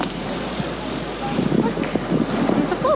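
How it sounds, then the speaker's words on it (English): A float plane droning overhead in the distance, a faint steady engine hum beneath outdoor ambience and nearby voices. "Look, there's the float plane."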